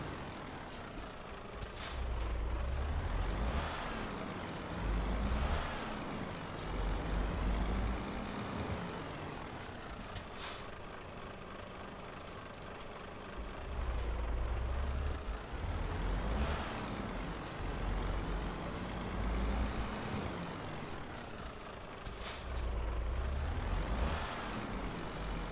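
Truck air brakes in Euro Truck Simulator 2, heard as repeated hissing releases that recur every several seconds over a steady low engine rumble and road drone, with no talk.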